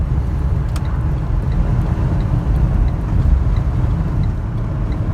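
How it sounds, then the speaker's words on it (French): A Renault Trafic 3 1.6 dCi diesel van engine idles with a loud, steady low rumble and some wind buffeting on the microphone. It is close and continuous, and no one speaks. "Le camion démarre bien."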